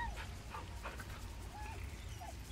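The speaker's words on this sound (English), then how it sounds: "Good dog. Who's a good dog?" Scratch, a dog in Baldur's Gate 3, gives a few short yips and whimpers over a low game ambience, soft and close.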